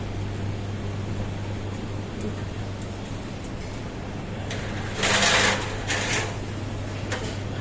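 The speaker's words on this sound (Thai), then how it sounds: "พัดลมหมุนแล้ว" A cooling fan spins steadily inside a chest freezer's cooling unit, giving a constant low hum and whir with a short burst of louder rattling partway through.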